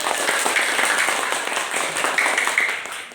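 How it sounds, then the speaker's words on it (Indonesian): Children in a classroom clap together, a dense, bright patter of small hands that holds steady for a few seconds and then tapers slightly. "Ya, silakan kita kasih tepuk tangan."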